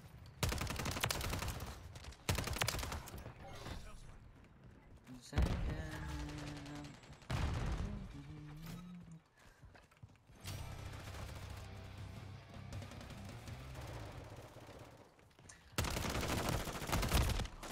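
Video game gunfire rings out in bursts of rapid automatic shots, loud and close, separated by quieter gaps holding game sounds and tonal effects.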